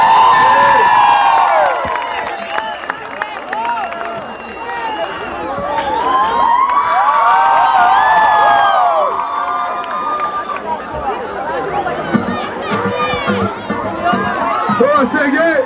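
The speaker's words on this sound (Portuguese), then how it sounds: "Um grande aplauso para esse extraordinário músico." An outdoor crowd at a surf event cheers, whoops and chatters for a musician, lively voices rising and falling with a few claps mixed in, loud and close throughout.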